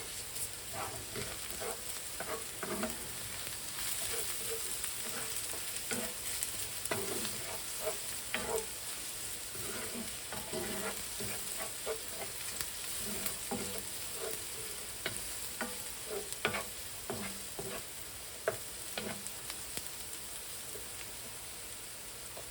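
Onions and crushed garlic sautéing in a pan for a veggie burger, a steady close sizzle like light rain, punctuated by frequent small scrapes and taps of stirring, with no voices.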